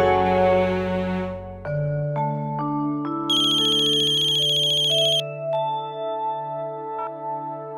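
Phone ringtone for an incoming call, a loud synthesized melody of sustained tones with a brief bright chiming passage in the middle, heard alone with no talking.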